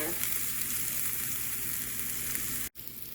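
Butter-sautéed greens sizzling steadily in a pan, a dense, even frying hiss heard up close with no voices, cut by a brief dropout near the end.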